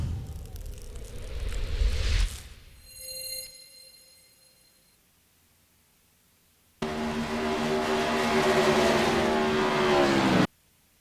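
A modified race car engine roars at Rockingham Speedway during a CRA Modified Madness Tour race as car 89 spins out in turn 2; a loud engine swell fades away, then another engine drones steadily and loudly for several seconds before cutting off.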